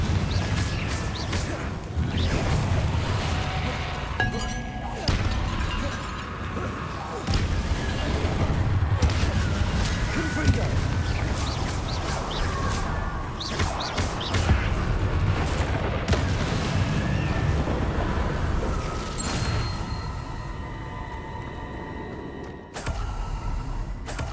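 Continuous barrage of spell effects in Hogwarts Legacy, with Confringo, Descendo and Incendio casts producing booms, whooshes, crashes and fiery blasts layered densely over about twenty seconds of loud combat.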